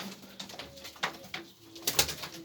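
Soft pigeon coos rise and fall close by in a coop in Kayseri, several low murmuring calls over a faint background hum.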